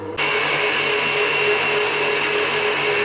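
Electric mixer whipping 350 grams of soft butter for a cake cream, a steady loud whirring motor hum that starts abruptly and runs continuously, with no talking.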